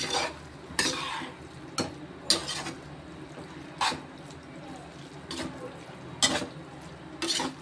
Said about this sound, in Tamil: இப்படி கொஞ்சம் நேரம் வதங்கட்டும்.